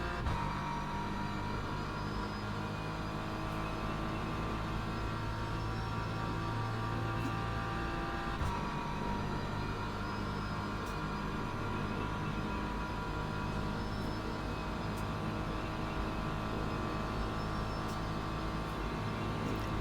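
BMW M4 GT3 race car engine howling around Monza in the Le Mans Ultimate racing game, a continuous steady drone held at high revs throughout.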